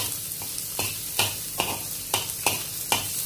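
Chopped garlic for arroz caldo sizzles in a hot pan while browning, with a steady quiet hiss broken by about six regular stirring scrapes, close and without voices.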